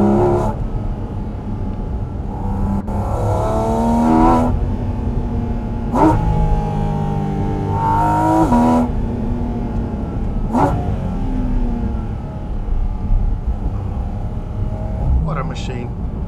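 Porsche GT4 RS Weissach engine heard from inside the cabin while driving, a low droning rumble that swells in repeated revving bursts with gear changes, fairly loud and close, with no spoken words.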